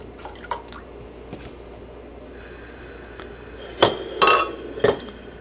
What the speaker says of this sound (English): Pour a little soy in there.